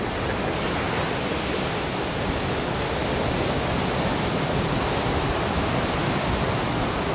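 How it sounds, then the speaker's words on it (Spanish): Ocean surf at a Pan American Games surfing competition breaks in a steady, dense wash of roaring water, constant and fairly loud with no voices. "Buenas olas"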